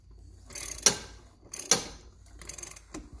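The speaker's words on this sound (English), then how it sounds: "Sorry, that clicking was my wrench hitting the fender well." A wrench repeatedly knocks against the fender well of a car being worked on during a turbo build on a D16Y8 engine, giving two sharp metallic clicks and then a looser rattling patch, close and quiet.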